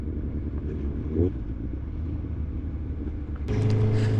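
A BMW S1000XR motorcycle with a decat exhaust and dB killer idles and rumbles steadily at low volume, its exhaust note rising briefly as the engine revs near the end.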